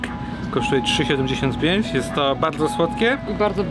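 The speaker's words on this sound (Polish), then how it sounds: "a jest to melodyjka z food trucka z lodami." A faint tinkling ice cream truck melody plays in a Washington, D.C. street, behind someone talking close in Polish.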